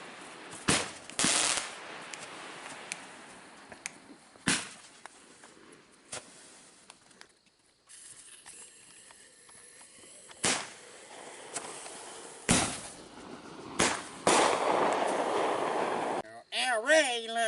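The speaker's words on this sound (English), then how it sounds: "Firecrackers go boom." Several firecrackers go off one at a time with sharp, loud bangs, irregularly spaced over a quieter background, with people talking between the blasts.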